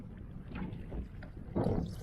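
A canoe is paddled into a strong headwind of about 15 miles per hour on an Adirondack lake. Heavy wind rumble fills the clip, with soft paddle splashes and water swishes pulsing through it at close range.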